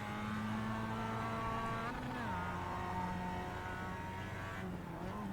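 A Mazda MX5 race car's engine in iRacing at Okayama International drones steadily and loudly, its pitch dipping and climbing through gear changes around two seconds and again near five seconds.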